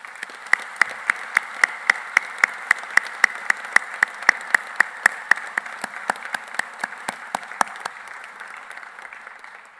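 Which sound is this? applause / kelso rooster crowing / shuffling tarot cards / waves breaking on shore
applause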